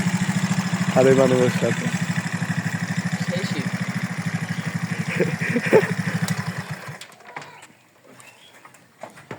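A motorcycle engine runs close by with a steady, throbbing putter, and someone talks over it. The engine cuts out after about seven seconds, leaving faint background noise.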